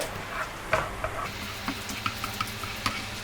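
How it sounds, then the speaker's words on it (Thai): Shrimp and garlic stir-frying in a hot pan for chili sauce shrimp, a soft sizzle broken by scattered clicks and scrapes of stirring, close up with no voices. "แล้วเราจะเริ่ม ใส่กุ้ง"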